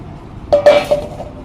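Metal utensils, a large basin and a wok, clank and clink against each other in a few bright, ringing knocks over about a second, close and clear.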